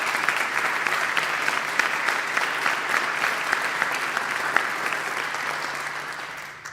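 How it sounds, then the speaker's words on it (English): A congregation at an annual church meeting gives a sustained round of applause, dense, even clapping from many hands that holds steady for several seconds and then tapers off at the end. "So I would like to have a moment for a round of applause for Sarah and Dave because they did exceptio"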